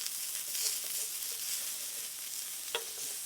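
Pineapple slices sizzling steadily on a grill, a soft continuous hiss with one small clack near the end, fairly quiet and without speech.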